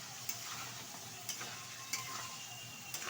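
Fried potatoes stirred into a spice mix in a pan while cooking cabbage curry, a quiet continuous sizzle with four sharp spoon taps against the pan at roughly one-second intervals, close but faint.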